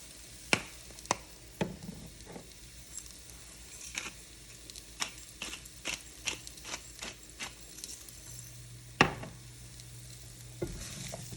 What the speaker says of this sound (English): Give this a good stir. And these are gonna go ahead and cook.